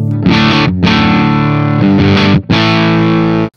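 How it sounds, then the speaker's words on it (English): Loud, slightly distorted chords from a Gibson Les Paul electric guitar through an amp on the edge of breakup, struck three times with brief breaks and each chord held to ring out. "Just kind of on the edge of breakup."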